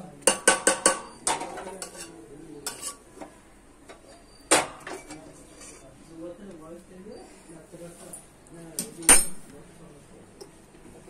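Pieces of cooked meat clatter and knock into a pressure cooker with water in a home kitchen, with a quick burst of sharp metallic clinks at first and scattered taps and thuds after, while someone talks quietly underneath.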